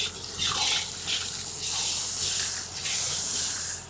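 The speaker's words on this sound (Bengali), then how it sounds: "দিয়ে দেবো পরিমাণ মতো জল।" Water pours close and steady into a pan of spiced curry base with cumin, turmeric and chili powders, hissing and splashing in a few uneven surges; no voices.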